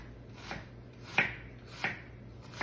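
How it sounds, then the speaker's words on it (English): A knife dices a raw sweet onion on a cutting board, giving four crisp chopping strikes spaced roughly half a second apart, close and clear over a quiet room. "And we just dice that up."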